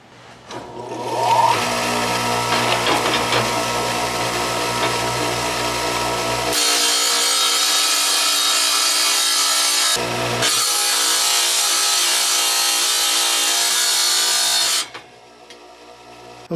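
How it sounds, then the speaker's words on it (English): A wet saw cuts a titanium rod to length, a steady loud grinding whine that runs for about thirteen seconds, changes pitch partway through, dips briefly near the middle and then winds down. "we're going to experiment with a wet saw just to cut it to length"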